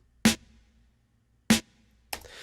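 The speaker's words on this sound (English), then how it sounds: "you'll probably hear the reverb more on the snare" Two sharp snare hits about a second apart, each followed by a short reverb tail, then a third hit begins as the clip ends.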